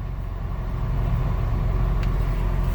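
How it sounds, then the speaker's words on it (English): A 2021 Chevrolet Trailblazer LS sets off on a test drive, its engine a steady low drone with road and cabin rumble throughout, loud and continuous, with no voices. "We're going to take it for a test drive in a moment."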